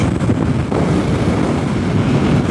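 A 2021 Yamaha MT03 300 motorcycle accelerates in sixth gear, mostly buried under heavy, loud wind buffeting on the microphone, with a low engine drone underneath.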